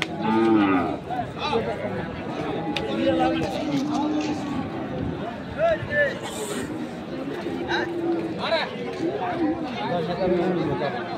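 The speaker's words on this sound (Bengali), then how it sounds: "আরো কিছু গরু আমরা দেখবো" Cattle at a busy market in Chattogram moo repeatedly, several drawn-out calls near and farther off, over constant crowd chatter and people talking throughout.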